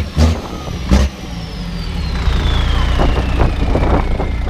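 A diesel truck engine at Truckfest Peterborough 2017, close by, with two short heavy revs followed by a steadier, building rumble as it keeps running.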